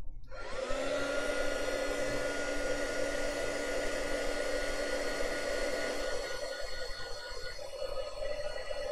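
A hair dryer runs steadily and close up, drying paper mounted for Chinoiserie-style gongbi painting, its whirring motor and rushing air holding an even, continuous tone for the full stretch with no talking.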